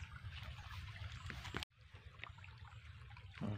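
River water trickling and flowing along a channel to irrigate a cornfield on a farm, a soft continuous outdoor wash with a brief break partway, close to the recorder.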